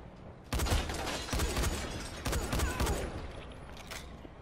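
Gunfire in the zombie game Dying Light: three loud bursts of rapid shots in quick succession, each a dense cluster of sharp cracks, separated by short gaps with quieter tails, no talk.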